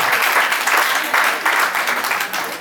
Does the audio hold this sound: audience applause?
yes